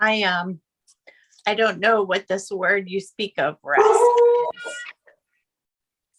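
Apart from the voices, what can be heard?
pet dog howling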